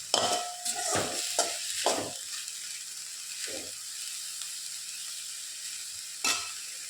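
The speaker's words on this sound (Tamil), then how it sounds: "தேங்காய் எண்ணெய் ஊற்றி மிளகாய் தூள் போட்டுக்கலாம்" Chili powder sizzling in hot coconut oil for an onion thokku, with a few sharp stirring scrapes early on, then a low steady sizzle and one more clatter near the end; no voices.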